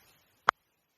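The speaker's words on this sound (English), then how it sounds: "That is the sound of me middling one to the fence" One sharp, crisp crack of a cricket bat middling a ball for a boundary, a single isolated knock in near silence, quiet and very brief.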